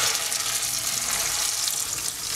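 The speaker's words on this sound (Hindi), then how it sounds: "घी हल्का सा मेल्ट होने लगा है, हम इसमें ये पिसा हुआ मिक्सचर डाल देंगे" A ground halwa mixture hits melting ghee in a pan, giving a steady close sizzle and frying hiss throughout.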